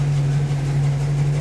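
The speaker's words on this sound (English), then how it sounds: "Let me get just a little exhaust note from there. It's a typical Pontiac explosion sound." A 1977 Pontiac Firebird Esprit idling, its exhaust giving a steady low rumble with a constant hum, close and continuous, with no talking.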